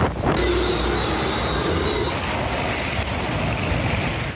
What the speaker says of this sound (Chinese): 这是五级飓风的声音。